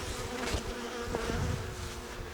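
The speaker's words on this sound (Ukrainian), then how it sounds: "Дивіться, яка в мене неагресивна бджола." Honeybees hum and buzz continuously close by at an open Alpine-style hive, a dense droning swarm with a few louder passes near the listener.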